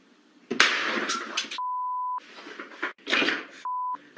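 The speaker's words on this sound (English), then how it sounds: "Phone, and I can play any tone from it," A phone plays two steady electronic beep tones, each about half a second long, set between louder bursts of crackling, clattering noise.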